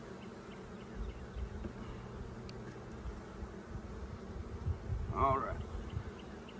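Honey bees buzzing at an opened bee hive, a faint steady drone close by, with a brief spoken phrase near the end.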